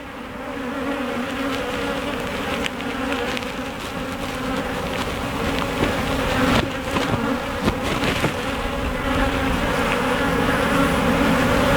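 Honey bees buzzing in an opened spring hive with a red queen, eggs and brood, a dense steady hum that fills the whole stretch, close and loud, with no talk.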